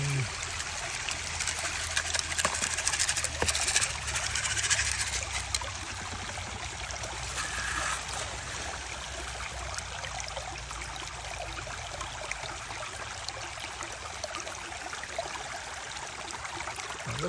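Water runs steadily through a tilted sluice box in a gold-prospecting trough, a continuous close trickling and gushing flow with a brief louder surge early on, with no talking.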